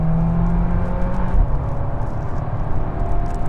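A VW Golf 8 R laps a wet race track, its engine a steady close-up drone with whirring road and tyre noise and no talk.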